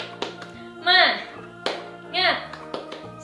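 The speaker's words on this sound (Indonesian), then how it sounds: "yuk tepuk semangat" Sharp hand claps for the tepuk semangat children's spirit-clap routine in an online Sunday school, a few irregular claps spaced between chanted voices.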